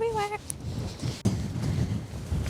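Strong gusty wind buffets the microphone on the Reykjanes Peninsula in Iceland, a constant low roar with blowing sand, briefly preceded by a short whistle-like tone and a sharp knock midway.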